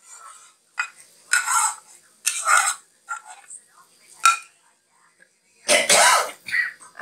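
A spoon scrapes and clatters intermittently in a pan as fried peas and potatoes are stirred together, with a few louder metallic knocks between quiet pauses.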